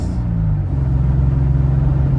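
A Triumph TR6 sports car's engine pulls hard and loud, recorded close. Its deep, thick low-frequency rumble rises slightly in pitch as the car accelerates, with no voices over it.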